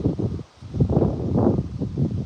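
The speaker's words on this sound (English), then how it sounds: "It's almost too windy." Strong outdoor wind gusting against a microphone beside a telescope on an equatorial mount, a rough low rumble that drops briefly and then surges back, with no talking.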